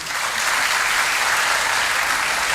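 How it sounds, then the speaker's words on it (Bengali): A lecture audience claps steadily, dense applause filling the whole stretch at an even, fairly loud level with no voices over it. "হাততালি দেওয়ার কিছু নেই"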